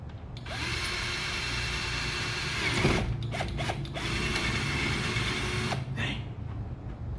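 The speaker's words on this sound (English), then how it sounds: "I'm gonna let him go ahead and get these holes drilled" A power drill bores holes into the body of a Dodge Charger R/T for a ZL1-style wicker bill spoiler, a close, steady whine running throughout with a few short stops and restarts.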